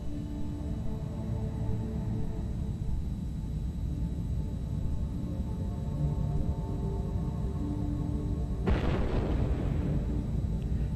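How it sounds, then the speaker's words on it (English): A supernova explosion sound effect, a long low rumbling roar that builds and then bursts into a louder, brighter blast near the end. "our atom burst from an exploding supernova"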